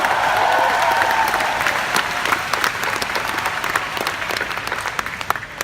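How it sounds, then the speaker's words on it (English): Applause from a large convention audience, loud and continuous clapping that starts as a full roar and gradually thins into scattered claps. "Can we give a round of applause to these people?"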